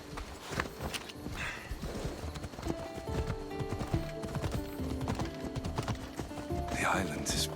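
Horse hooves clip-clop steadily while riding in Assassin's Creed Odyssey, a close, even gait with an occasional whinny, mixed with game ambience and soft clatter.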